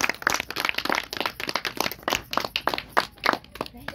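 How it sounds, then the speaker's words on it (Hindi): An audience at a meeting claps by hand, producing uneven individual claps in a loose and moderately quiet patter that sounds like a small group rather than a large crowd. "जोरदार तालियों के साथ।"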